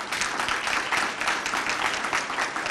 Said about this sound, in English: let's take a moment to applaud them for volunteering their entire day and weekend to prepare for this